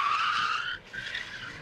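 Tires of an ambulance squeal sharply in a short skid during emergency driving maneuvers, a loud, close screech that dips briefly and then resumes.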